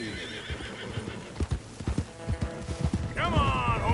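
Horses in the Red Dead Redemption 2 video game gallop with steady clip-clop hoofbeats, then a loud whinny rings out near the end, while a voice calls out over the hooves.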